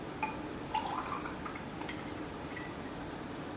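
Raw mango aam panna drink poured into a glass, a soft continuous liquid trickle with a few faint drips and splashes, steady and close throughout.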